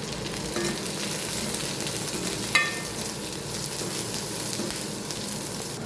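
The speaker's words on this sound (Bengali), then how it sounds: "পেঁয়াজগুলো তেলে ভেজে নেওয়ার পর এরপর আমি মরিচগুলো একটু হালকা করে ভেজে নেব।" Green chilies lightly frying in hot oil after onions, a steady broadband sizzle running throughout with one brief sharper clatter near the middle, close and moderately loud with no voices.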